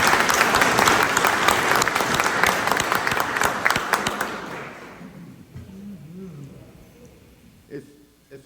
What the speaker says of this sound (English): another round of applause from the city of trust